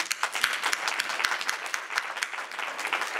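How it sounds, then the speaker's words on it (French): A church congregation breaks into sustained applause to honour women standing up, a steady, crowded roar of clapping with a few sharp, distinct claps near the front. "Elles vont se mettre debout. On va les acclamer."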